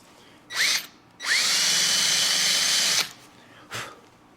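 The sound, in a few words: drill with countersink bit countersinking a hole in brake lining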